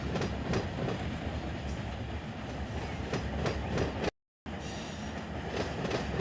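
Freight train rolling past in Run 8 Train Simulator III on the A-Line, a loud steady rumble with clickety-clack wheel beats throughout, broken by a brief silent gap near the end before the rolling noise resumes.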